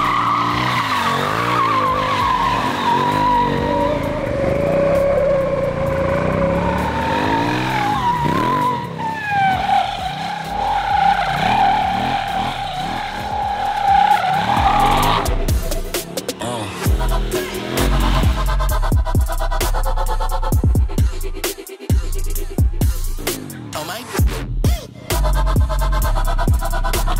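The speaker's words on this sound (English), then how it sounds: "let's do a burnout" A KTM 890 Duke GP motorcycle engine revs hard and wavers in pitch, then breaks into harsh tire squealing and skidding during a loud, sustained burnout.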